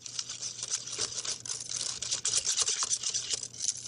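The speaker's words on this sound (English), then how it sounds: "now that it's getting a little softer, I can switch to a whisk." Wire whisk beating pumpkin cheesecake batter of cream cheese and pumpkin puree in a bowl, a close, continuous scraping swish with fast uneven strokes and a few brief taps against the bowl.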